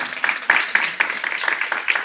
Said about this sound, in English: Let's give them a round of applause for what they did